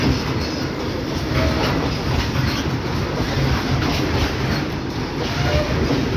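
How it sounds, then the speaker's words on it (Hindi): A rail maintenance train passes close by, giving a continuous loud rumble of wheels on track with steady clatter and faint squeal throughout. "रेल मेंटेनेंस ट्रेन बोल सकते हैं"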